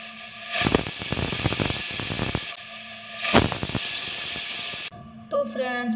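A pressure cooker on a medium flame, softening onions for matar paneer, releases steam through its whistle in a loud, steady hiss with pulsing surges for about five seconds, then cuts off abruptly.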